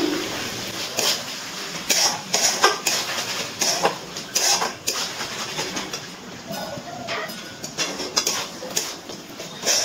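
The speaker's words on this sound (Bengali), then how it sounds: "মশলাটা দিয়ে মাংসের সাথে একটু নাড়াচাড়া করে নিচ্ছি।" Ground roasted spices stirred into chicken meat in a pot for a chicken curry with potatoes: repeated close clinks and scrapes of a spoon against the metal in an uneven rhythm.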